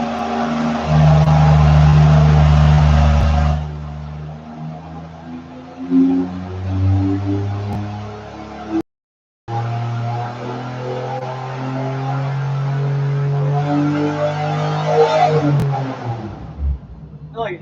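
A naturally aspirated L67 engine with a ported blower intake manifold runs on a dyno, revving up and down in loud, changing pitched sweeps broken by a brief cut, under occasional talk.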